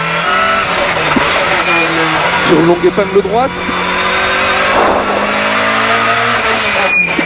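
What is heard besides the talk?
Peugeot 205 rally car driving fast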